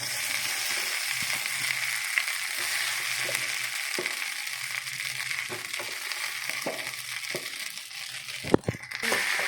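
Crumbled idli sautéed in a pan with browned onions gives a steady, close frying sizzle, with occasional soft stirring scrapes and a sharper clatter near the end.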